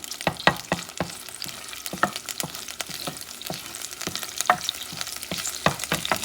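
Chicken wings for a Puerto Rican stew sautéing in a pan, a steady sizzle broken by frequent sharp spatula scrapes and knocks, close and with no voice.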